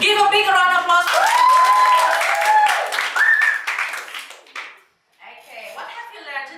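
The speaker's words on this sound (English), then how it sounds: "Give a big round of applause for" Students clap together in a classroom, a dense patter of hands mixed with cheering and excited voices that trails off near the end, then picks up briefly again.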